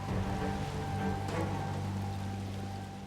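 Heavy rain pours down in a dense, steady hiss of drops hitting surfaces during an inland downpour, loud and unbroken for a few seconds.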